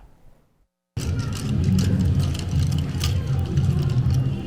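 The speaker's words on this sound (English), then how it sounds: "This is the sound of Morgan's truck getting ready to paint her thoughts down on a canvas" A pickup truck engine starts up abruptly after a brief quiet moment and keeps running with a loud, steady low rumble, close by.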